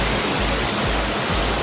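Gaigan Waterfall on Nusa Penida gives a loud, steady broadband roar of falling water, close and continuous with no voices over it.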